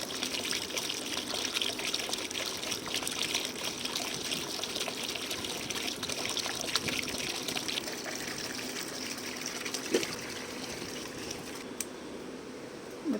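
Water pumped by a motor on a rooftop garden pours in a steady, continuous gushing stream onto potted plants, close and unbroken for the whole stretch.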